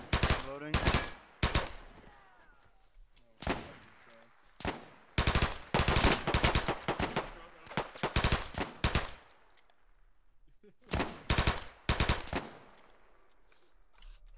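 Machine gun fire in a WW2 Normandy D-Day video game, loud bursts of rapid gunfire repeating in clusters, separated by quieter gaps of background noise.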